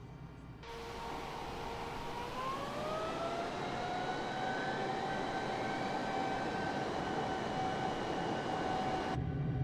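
A military jet engine spools up to full power with afterburner on the takeoff roll in a flight simulator, a loud steady roar with a rising whine that climbs in pitch and then holds, with no voices.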